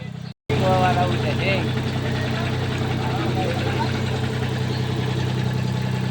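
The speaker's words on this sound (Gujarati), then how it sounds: "હવે જો ટ્રેક્ટર ને એવું લઈને જાય છે ને ટ્રેક્ટર જો કાઢે છે" A tractor engine idles in a steady, close, low rumble that runs without a break after a brief cut at the start, while someone talks over it.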